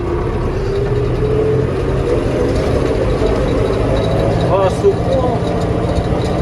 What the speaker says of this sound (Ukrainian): І як бачите, трактор не набирає обертів.